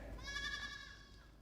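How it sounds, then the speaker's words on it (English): A goat bleats on a film set, one drawn-out wavering cry that sounds close and fairly faint, fading out over a quiet background. "Now shut up that fucking goat!"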